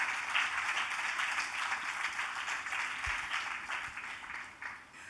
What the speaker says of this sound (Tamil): அதுக்கு நம்ம எல்லாரும் கரகோஷத்தில் ஒரு பெரிய நன்றி